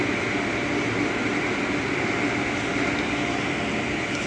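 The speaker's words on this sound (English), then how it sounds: "It's getting the wraparound brushes and it's going to get a rinse off." An automatic car wash works on a Buick Lacrosse with wraparound brushes and a rinse, giving a loud, continuous broadband whooshing and rumbling spray with no breaks.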